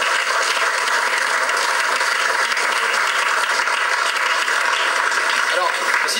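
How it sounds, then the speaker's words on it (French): A studio audience at a warm-up act claps in a dense, steady wash of applause that holds at an even, loud level from start to finish. "On peut l'applaudir malgré tout."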